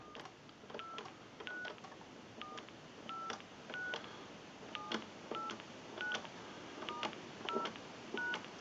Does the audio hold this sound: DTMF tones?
yes